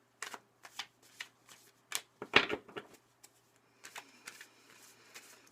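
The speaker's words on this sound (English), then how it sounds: "I'm going to pull some cards with my Wildwood Tarot deck" Wildwood Tarot cards being handled and shuffled close by: soft irregular riffles, flicks and slaps in scattered bursts, faint and quiet overall with no talking.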